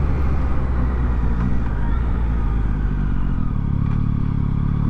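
A Yamaha MT-09 SP motorcycle engine drones loudly and steadily up close, with a deep, rumbling low end throughout.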